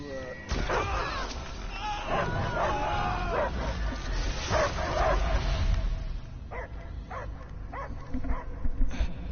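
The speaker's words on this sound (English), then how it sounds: "I hear only barking." A dog barks, yips and whimpers in the Guardians of the Galaxy video game, loud and close, with voices talking over the sounds.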